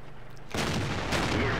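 Tank cannon fire in World of Tanks lands as a loud, close blast after a quiet start, and a second shot follows about half a second later, both with rumbling broadband decays.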